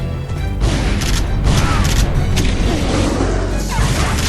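Heavy blasts and crashing impacts in the Evil Dead game, several booming shotgun-like hits among clattering mechanical noise, loud and close throughout.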